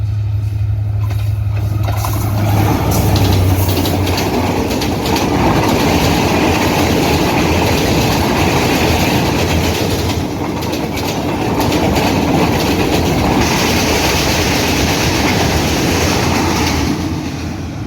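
The Nilsagar Express, a Dhaka-to-Chilahati passenger train hauled by a 6614-series locomotive, rushes past at speed with a loud, sustained roar of wheels on rails and steady clickety-clack, after a brief low horn at the start.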